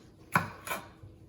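Two sharp knife chops on a cutting board, close and crisp, followed by a faint third tap, in a home kitchen while vegetables are prepared for a quick salmon dish.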